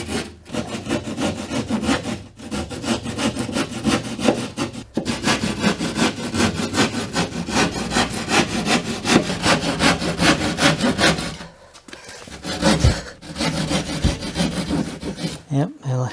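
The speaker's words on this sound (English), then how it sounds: "So just laying this drywall knife saw flat," A drywall knife saw held flat cuts through drywall in a basement, giving long, steady rasping strokes that run continuously with only a few brief pauses, close and fairly loud.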